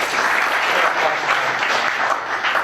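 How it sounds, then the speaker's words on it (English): An audience at an evening talk at Sheridan College claps in steady, moderately loud applause that carries on evenly without speech. "Bit of applause for Rohan."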